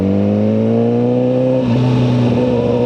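A Suzuki GSXR 1000R motorcycle in A mode pulls away in first gear, its engine note a loud, steady rising drone that climbs in pitch, close to the rider with no talk.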